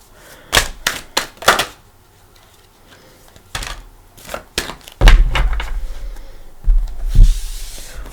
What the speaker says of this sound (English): Alright, I am going to shuffle.